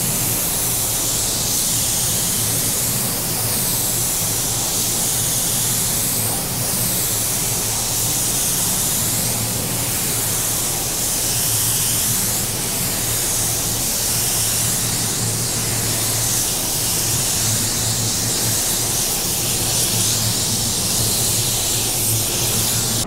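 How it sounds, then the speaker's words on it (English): Fade-out spray hisses steadily onto a car panel along the edge of seam sealer during a budget paint job, a continuous close, loud aerosol rush with slight pulsing as the can sweeps back and forth. "Now this is that fade out spray. We're gonna use it just here where the edge of the sealer is."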